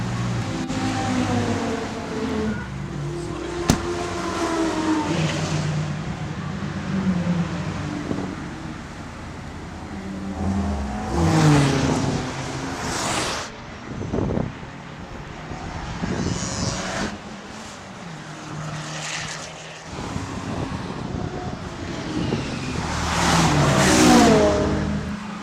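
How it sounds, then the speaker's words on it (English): Car engine running and revving on the Brands Hatch race track during a racing licence practical test, rising and falling passes with wind noise throughout, moderately loud. "about to go out in the car for the first time to do my practical side of the test"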